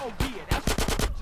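Gunfire rings out in GTA San Andreas: one shot, then a rapid burst of four or five sharp reports in quick succession at moderate level.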